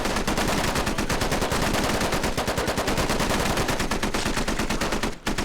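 Sustained, relentless automatic gunfire from the military shooter Squad hammers away nearly nonstop, loud and close, with overlapping bursts and only a brief gap near the end.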